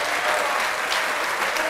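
Church congregation clapping together in sustained, dense applause, a continuous close roar of many hands with no pauses.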